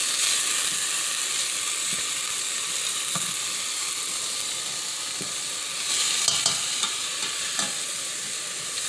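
Vegetables frying in a small amount of oil for a queso dip, a continuous close sizzle with occasional clicks and spatula scrapes, no talking.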